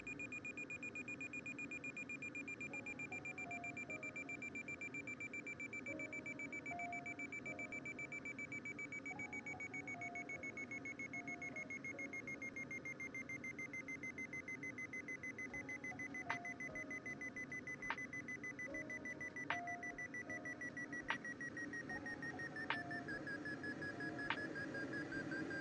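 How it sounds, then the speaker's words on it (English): Beeping from the Condor 2 glider flight simulator: a steady electronic tone slowly falls in pitch throughout, and sharp short beeps join it at regular intervals toward the end, with no talking. "let me turn that beeping down"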